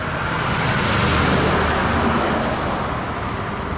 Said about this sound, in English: Like all the vehicles that are going past, they're so noisy